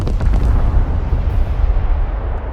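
Free-fall bombs from an airstrike in the video game Broken Arrow explode in a dense, rolling barrage, a loud continuous wall of deep blasts and rumble lasting a few seconds with no voices.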